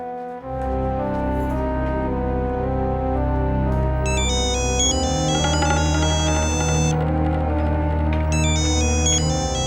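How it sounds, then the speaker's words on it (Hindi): An electronic telephone ringtone plays on without being answered, a repeating melodic tone pattern with higher bright notes joining partway, loud and continuous with no talk. "फोन का उत्तर क्यों नहीं देते तुम?"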